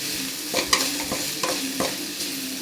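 Okra stir-frying in a pan with turmeric and sambar powder, a steady close sizzle broken by several scraping stirs of the spatula.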